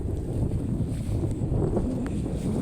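Wind gusting across an open rice paddy where floating duckweed is being scooped from the water, a steady broadband rush with low rumbling buffeting on the microphone, continuous and fairly close throughout.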